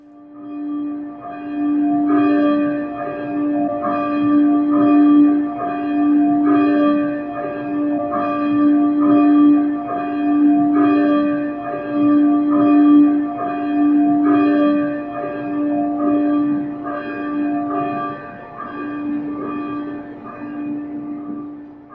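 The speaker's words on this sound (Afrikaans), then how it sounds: "ons luister na die klok se gelui voordat ons die erediens formeel begin" A church bell rings steadily before a Sunday morning service, each strike ringing out with a long sustained hum, loud and even over about twenty seconds with no voices.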